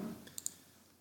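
Two quick, crisp computer mouse clicks close together, faint and dry against a quiet background.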